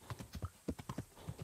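A horse gallops in the video game Kingdom Come: Deliverance, weighed down with extra equipment, its hooves thudding in a quick, steady rhythm at moderate volume with no voices.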